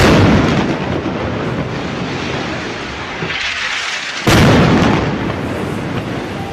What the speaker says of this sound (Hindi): जैसे ही आईडीएफ के चार सैनिक इस आईईडी के करीब आते हैं इस आईईडी में जोरदार ब्लास्ट कर दिया जाता है